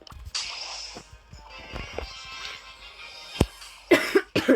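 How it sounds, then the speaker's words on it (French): Several coughs break out close by, a couple of isolated hacks followed by a harsher burst of coughing near the end. "Excusez-moi si je tousse beaucoup pendant la vidéo"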